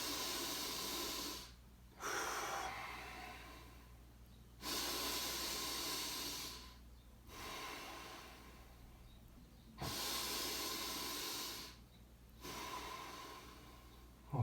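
Slow, deep breaths during a breathing exercise, long airy inhales and exhales in a steady cycle with short quiet gaps between them, close and clear.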